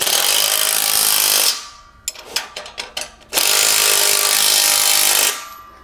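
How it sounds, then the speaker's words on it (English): A bolt is tightened on a trailer with a three-quarter-inch wrench and socket: a quick run of sharp ratcheting clicks sits between two long, loud bursts of harsh mechanical whirring, all close up. "Tighten it down. Three-quarter-inch wrench and socket."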